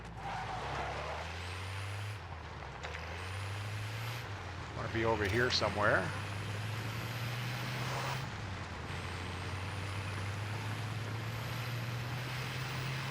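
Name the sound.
car driving in a video game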